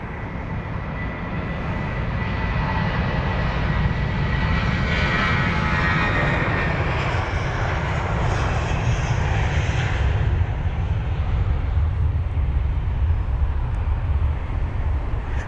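A British Airways Airbus A380 passes at London Heathrow with a loud, sustained jet roar that swells after the first couple of seconds and stays strong and steady to the end, with no talk over it.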